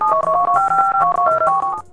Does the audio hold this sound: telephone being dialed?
yes